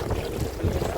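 Gusty cold wind at a river mouth buffets the microphone in low, rumbling bursts, with a faint watery background.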